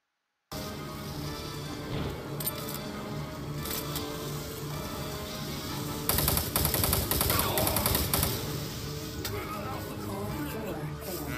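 Bursts of gunfire from a boss shooting at a wall in a Doom 3 mod, steady and fairly loud with a denser, louder volley midway, mixed with game music and ambience; someone talks over parts of it.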